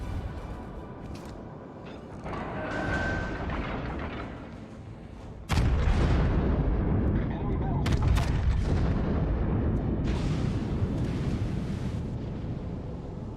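Naval gunfire from battleships in World of Warships Legends, including the Yamato, booming heavy blasts with a sharp loud salvo midway followed by rolling rumble and scattered further shots amid game ambience.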